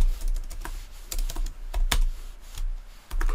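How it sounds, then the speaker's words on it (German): Someone types on a computer keyboard, copying Java code: uneven bursts of crisp key clicks and thumps close by, with short pauses between runs and no voices. "Und dann tippe ich das jetzt einfach ab, was da oben steht."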